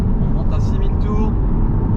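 Audi TT 2.0 TFSI 211 hp engine climbing toward 6000 rpm, a steady, loud, close drone that stays sustained from start to finish under the cabin noise.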